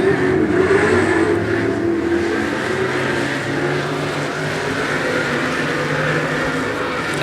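Race cars roaring around 105 Speedway during a regular race program, a steady dense engine drone from several cars at moderate distance, sustained without breaks.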